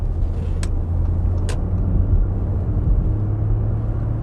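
High-mileage V6 diesel Audi A6 Avant automatic driving and gathering speed, a loud steady low engine and road rumble from inside the cabin with two brief sharp clicks early on.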